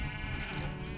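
A single sheep bleat from the video game Minecraft, a short loud wavering cry heard alone.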